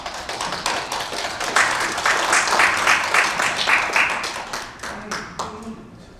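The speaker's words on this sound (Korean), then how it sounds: "조준희 대표 변호사님을 큰 박수로 맞이해 주십시오" Audience applause greets a lawyer being welcomed to the stage at a financial forum, with dense clapping rising and holding for several seconds before thinning out near the end.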